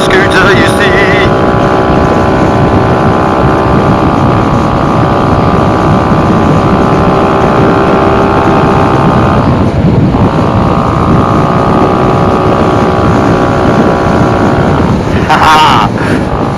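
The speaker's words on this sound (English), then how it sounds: "I'm on a Revigo, little monkey scooter, you see." A Revigo scooter engine drones steadily and loudly throughout the ride, with strong wind buffeting on the microphone and a brief dip in the engine note partway through.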